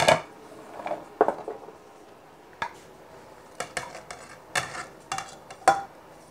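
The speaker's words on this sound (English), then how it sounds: "Stir that and I'll let that cook for a little bit." A spoon stirs vegetable soup with cubed potatoes in a pot, giving scattered clinks and scrapes against the metal with quiet pauses between them.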